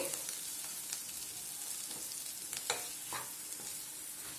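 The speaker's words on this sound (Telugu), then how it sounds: "చల్లుకొని మరోసారి ఫ్రై చేసుకుందాము." Chicken liver dry fry sizzles steadily in a pan after chopped coriander is sprinkled in, a close, even hiss broken by a few sharp spatula scrapes and clicks toward the end.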